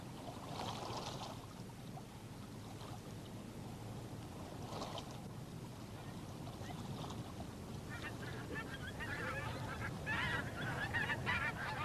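Geese honk in scattered bursts as they fly south across the night sky in Shetland, over a steady windy rush, the calls coming and going at a moderate distance.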